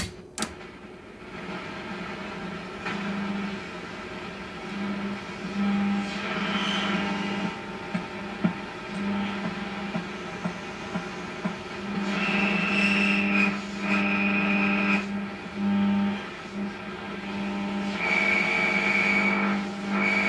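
Noisy long wave AM reception on a Philips A5X83A tuner, with a persistent hum and hiss, faint warbling tones and bursts of static rising and falling.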